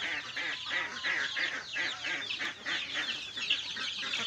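A dense chorus of small chicks peeping continuously and loudly up close, overlapping high chirps filling the whole stretch without pause.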